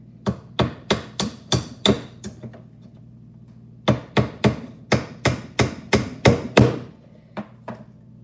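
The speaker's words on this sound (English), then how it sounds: "So as you can see, I can hammer with my left" Hammering sounds as a series of sharp, loud, evenly spaced strikes, about six in a quick run, then a pause of about two seconds and a longer run of about ten blows, near and alone.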